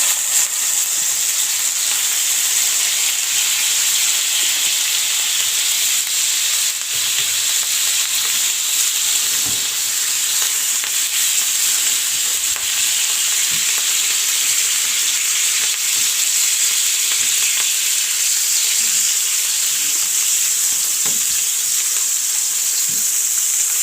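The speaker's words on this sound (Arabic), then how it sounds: "معايا هنا بقى الطاسه دي فيها حته زبده كده، ابدا بقى انزل بيه ايه باللحمه فيها كده، اديها بقى تشويحه حلوه كده" Veal pieces frying in butter in a pan give off a loud, steady sizzle that runs unbroken throughout, with faint stirring scrapes now and then and no talking.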